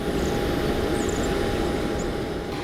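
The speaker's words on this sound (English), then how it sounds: "Speaking of Uniteds, here's a 319. As the 319 pulls in" A United Airbus A319 airliner taxis in at Cleveland airport, its engines a steady, loud, broad roar with a faint high whine, heard from fairly close for a few seconds with no talking.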